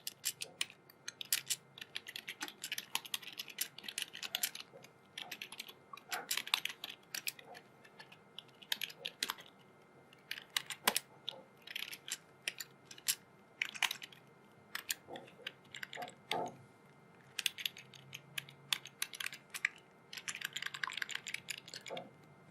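Typing code on a computer keyboard: quiet, close clicky keystrokes come in irregular bursts with short pauses between runs, alone without speech.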